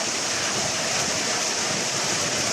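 Heavy rain driven by strong wind, a dense, steady roar of water and gusting air that stays loud and unbroken throughout, with no voices.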